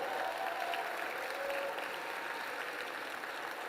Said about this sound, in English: stand and get your shine, get your applause